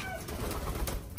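Pigeons cooing nearby in a short, soft low burble, with faint background rustling.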